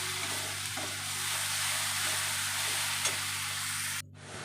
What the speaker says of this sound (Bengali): আদা রসুন পেঁয়াজ বাটা দিয়ে দিচ্ছি, ভালো করে ভেজে কষিয়ে নেব মশলাটাকে ভালো করে